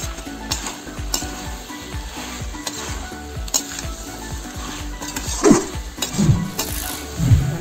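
Pumpkin greens and shrimp sizzle in a frying pan while a utensil stirs and scrapes, with repeated clinks against the metal and a few louder scrapes near the end; no one talks.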